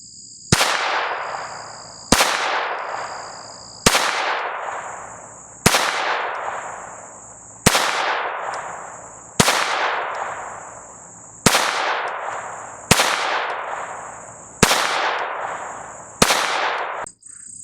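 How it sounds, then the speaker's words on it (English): Ruger SR22 .22 pistol fired during outdoor target shooting, ten sharp loud shots at an even, unhurried pace about two seconds apart, each ringing off with a brief decay and no talk. "It is a fun little pistol to shoot."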